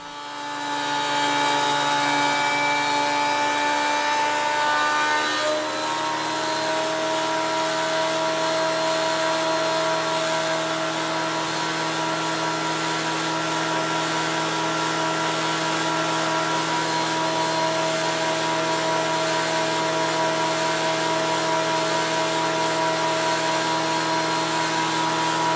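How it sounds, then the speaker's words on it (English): A wood planer thicknessing spreader blanks for a Catalina 30 sailboat, a loud continuous tonal roar that holds steady the whole time, with a slight pitch change early on as the board feeds through. "The planer is used to make the sides parallel and bring the final thickness down"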